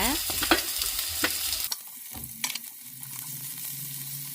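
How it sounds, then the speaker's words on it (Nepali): One finely chopped onion fries in hot oil with cardamom, cinnamon, cloves and a bay leaf, making a close, busy sizzle with rapid spatula scrapes and knocks that settle into a softer, steady crackle, no voices. "अब प्याजलाई हामीले फ्राई गर्नुपर्छ एकैछिन"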